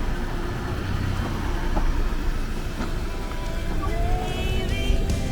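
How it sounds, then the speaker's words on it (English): A car rolls slowly through a tunnel cut in a giant redwood tree, its engine and tyres making a steady close rumble throughout, with faint creaks and small knocks over the drone and no talking. "You're driving through a tree!"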